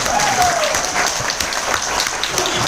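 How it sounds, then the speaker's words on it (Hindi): Applause from a training-event audience at a club gathering in Mumbai, a steady dense wash of clapping that runs evenly for the whole stretch, with a faint voice briefly audible near the start. "एक बार लीलेश सर के लिए जोरदार तालियां।"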